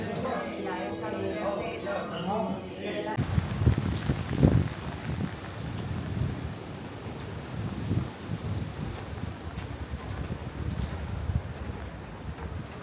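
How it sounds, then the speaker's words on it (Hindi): Heavy rain in a storm pours down over Mostar's old town while someone walks through it: a steady, dense wash of noise fills the scene after a brief musical opening, with gusty swells throughout. "इस वक्त तेज़ बारिश हो रही है, स्टॉर्म वाली कंडीशन है और इस वक्त हम वॉक कर रहे हैं मोस्तार के ओल्ड टाउन में"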